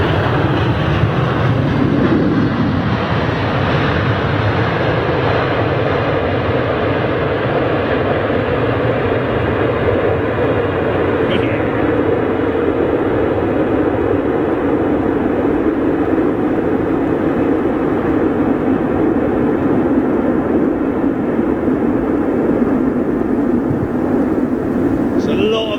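A British Airways airliner landing at Heathrow roars loudly and continuously as its inboard thrust reversers slow it down, a sustained broadband rush with a voice faintly over it.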